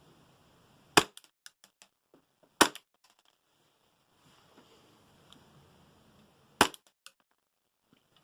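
An Action Army AAP-01 airsoft pistol fires three sharp semi-auto shots, spaced irregularly over several seconds, each a loud close crack followed by faint clicks and small rattles.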